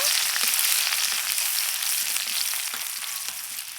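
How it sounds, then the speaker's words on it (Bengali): Chopped onion and garlic frying in hot oil alongside dried chilies, cumin seeds and bay leaf, a dense steady sizzle close to the pan with faint occasional stirring ticks, no talking. "পেঁয়াজ আর রসুনটা ভেজে নেব"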